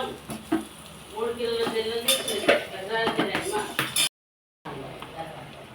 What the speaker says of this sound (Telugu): ఎగ్స్ ఇలా వేసుకున్నాను. ఇప్పుడు కలుపుకోవాలి మొత్తం.